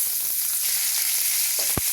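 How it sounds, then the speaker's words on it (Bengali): Onion frying with cumin seeds in hot oil in the same pan used for fish, a continuous close sizzle with a sharp clack near the end and no voices. "পেঁয়াজটা জিরেতে একটু ভাজা ভাজা হয়ে যাবে"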